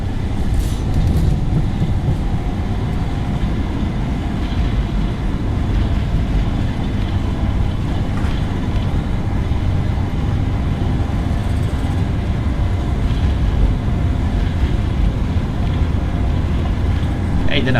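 An Airbus A321's engines roar in reverse thrust after landing, a loud, steady, broadband rumble heard from inside the cabin that persists throughout, with faint voices beneath it.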